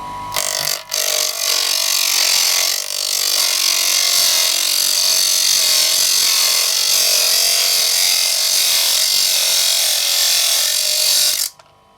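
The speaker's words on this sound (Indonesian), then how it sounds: "Oke, kemudian langsung kita potong ya, 1 cm. Oke, ini gerinda potongnya." A cut-off grinder slices through a small metal arrow point piece about 1 cm long, a loud continuous high-pitched whine and grinding screech close by that holds for about eleven seconds and then cuts off sharply.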